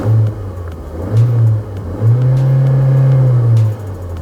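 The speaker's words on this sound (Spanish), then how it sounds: "Escuchemos ese acelerador precioso." 2024 Omoda O5 GT engine revved in a series of throttle blips, short rises then a longer sustained rev before dropping back to idle, loud and close with no talking.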